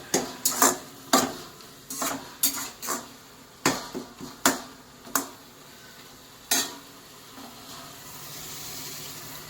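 Spoon stirring cauliflower curry with chili powder in a pan, about a dozen sharp scraping clacks against the pan in an uneven rhythm, close and distinct, with a faint sizzle beneath, fading to quiet frying at the end.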